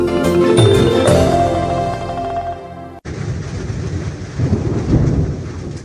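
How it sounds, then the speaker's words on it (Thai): Heavy rain with a thunderstorm and strong wind in Chiang Rai, Thailand; loud, steady downpour with deep rumbling thunder, the first half overlaid by tonal musical sound before it cuts to a dense roar of rain and wind. "ช่วงเนี้ยฝนทั้งตกหนักลมก็แรง"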